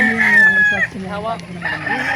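A gamefowl rooster at a chicken market in Calauan crows loudly and close by, one long full crow with a brief trailing call, over faint crowd noise.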